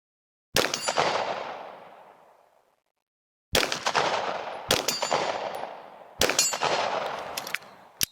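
Smith & Wesson M&P 2.0 Competitor pistol fired outdoors at steel plates around 40 yards away: five sharp, loud shots at uneven intervals, each followed by a long ringing decay, with no talking.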